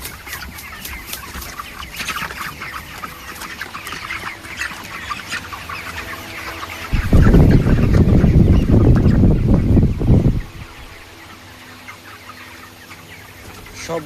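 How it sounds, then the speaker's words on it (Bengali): Chickens cluck steadily throughout, with a denser, louder burst of flock noise in the middle before settling back to scattered calls. "সবগুলা মুরগি কিন্তু গায়ে ছুটে গেছে"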